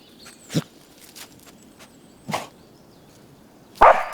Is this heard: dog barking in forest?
yes